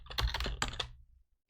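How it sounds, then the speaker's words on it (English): A quick flurry of several close key clicks on a computer keyboard while typing a PowerShell command, lasting about a second before stopping. "we're going to type the file name that we need to check"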